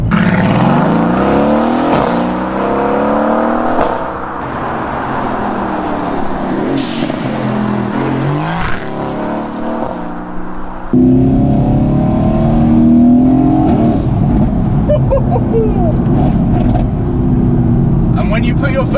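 A Renntech-tuned Mercedes-AMG GT-S accelerates hard in second gear, its engine roaring and rising in pitch close by, with a sharp upshift break midway before the roar resumes and climbs again.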